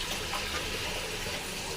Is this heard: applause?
no